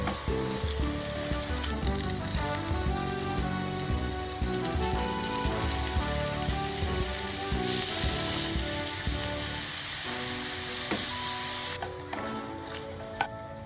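Vegetables with malunggay cook in a pan, with a steady sizzle under a busy layer of clicking and rattling sounds that runs throughout and quiets near the end.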